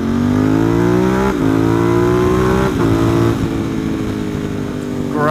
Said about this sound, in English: this is a good opportunity to accelerate onto the highway.